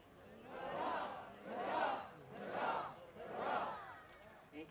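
An outdoor crowd at a Swedish National Day celebration in Badhusparken shouts four rhythmic rising hurrah cheers, loud and evenly spaced, with no other talk.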